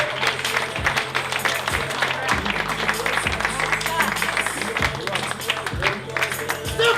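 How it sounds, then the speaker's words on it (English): Audience at a stand-up comedy show claps steadily and loudly for a comedian, a dense wash of applause that runs the whole time, with some crowd voices mixed in. "Everybody make it loud. Start clapping now for Scott Althaus, everybody."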